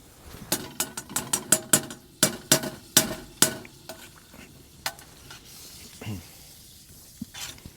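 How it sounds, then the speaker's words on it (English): Sausages frying in butter in a pan at a winter campsite in about -35°C cold, with a run of sharp scrapes and clatters from stirring, then a softer sizzle and a few sparse knocks. "I got some butter that I'm going to put in this pan, and we're going to put some sausages in here"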